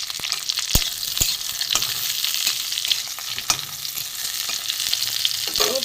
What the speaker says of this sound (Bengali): পটলগুলো মোটামুটি আমার ভাজা হয়ে গেছে বন্ধুরা